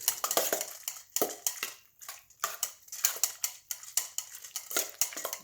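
Korean spicy garlic chicken and asparagus get stirred and tossed, giving quick, irregular clinks and scrapes of a utensil against cookware in close, fairly quiet bursts.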